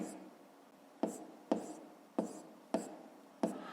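A pen writes on paper in a math exercise, with six short distinct strokes at a steady rhythm over faint background noise, close and quiet.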